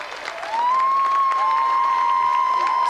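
A studio audience on a 1992 games television show breaks into loud, sustained applause that swells in after a brief pause and carries on steadily, with a long electronic tone ringing over the clapping.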